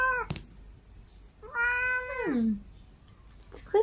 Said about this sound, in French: Donc voici le chat qui miaule tout le temps.